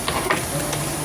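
Spinach dropped into a pot over high heat, giving a loud, steady hiss and sizzle of steam close by, with faint clatter of stirring.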